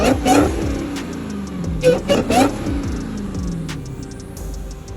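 A car engine revving with a rising and falling whine, several sharp rev bursts swept up and down at close range, a voice speaking over part of it.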